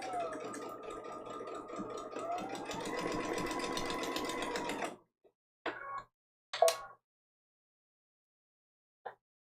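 A sewing machine stitches a foundation paper pieced quilt block in a steady whirring run of about five seconds, its pitch shifting slightly as it speeds up, followed by a few brief clicks and handling sounds in quiet.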